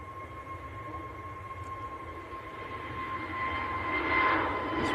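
A Pegasus Airbus A320neo jet departs Manchester Airport bound for Antalya, a steady engine roar with a sustained high whine tone, swelling slightly louder toward the end, heard from a distance without talk.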